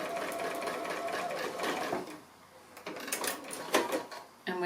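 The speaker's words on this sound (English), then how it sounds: "So we're going to stitch each of the 4 corners" Sewing machine stitching short seams across the corners of small fabric coasters, bursts of steady mechanical whirring with brief pauses between runs, close and fairly loud.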